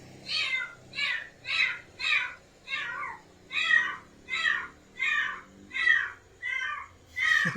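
A cat meows over and over, about ten loud, evenly spaced calls in a steady, insistent rhythm.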